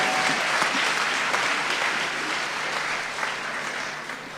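A church congregation applauds the Lord, dense sustained clapping from a crowd, loud and continuous, fading slightly toward the end.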